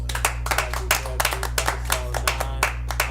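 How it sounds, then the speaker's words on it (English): A group therapy audience claps in a loose, quick rhythm, sharp hand claps close by with no talking. "Let's clap it up."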